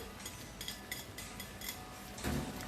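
German potato salad of potatoes, bacon and green onion being tossed in a bowl, giving soft utensil scrapes and light clinks in a steady run, with a louder clatter near the end.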